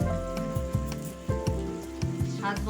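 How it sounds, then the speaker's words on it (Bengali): Masala of cumin powder, coriander powder and Kashmiri chili powder sizzling as it is sautéed in a pan for chana paneer, a steady crackling fry with soft stirring ticks and a faint tonal hum beneath. "মশলাটা আমি আরেকটু ভালোভাবে কষে নেব"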